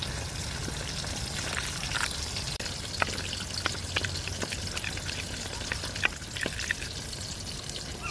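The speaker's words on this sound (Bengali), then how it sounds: "বাকি মাছগুলো ভাজা হয়ে গেছে, এখন তুলে নেব।" Small tengra fish frying in hot oil in a home kitchen for a spicy curry, a steady close crackling sizzle with scattered pops and light clinks throughout.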